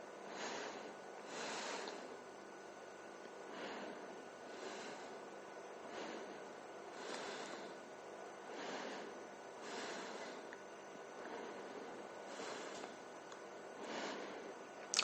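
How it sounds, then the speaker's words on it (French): Slow, steady breathing during a gentle yoga stretch for fascia and persistent pain: soft airy breaths rise and fall in a regular rhythm, quiet and close with no talking. "On fait quelques respirations ici."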